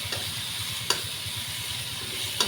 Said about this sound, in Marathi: असं थोडं परतून घ्यायचं मस्त एकजीव होईपर्यंत.